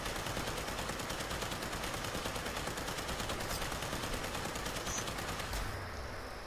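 Rapid, continuous automatic gunfire from a video game, a dense rattling stream of shots at a steady rhythm that cuts off near the end, no talking over it.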